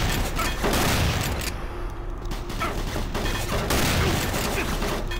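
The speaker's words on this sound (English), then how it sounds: "I'm shooting that barrel" Dense, loud gunfire in a video game as a player shoots at a barrel, heard as rapid overlapping shots with crashing bursts that fill the whole clip over continuous game noise.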